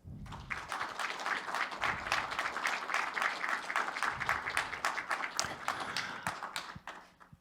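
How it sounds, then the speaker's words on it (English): An audience at an inaugural association meeting claps steadily for several seconds, a dense, even patter of many hands that fades out at the end. "please agree with a big round of applause"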